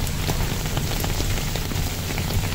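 Heavy stormy rain pours down outdoors in a dense, even hiss with scattered sharper drop impacts, steady and loud throughout.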